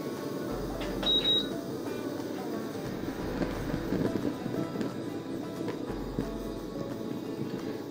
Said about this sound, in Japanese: でまず扇風機弱から